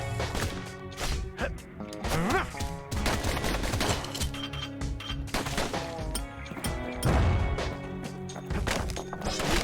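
Pistol fire from armor-piercing shots in the action game Bastion, sharp bursts of reports repeating over a dense, busy layer of game music and effects throughout.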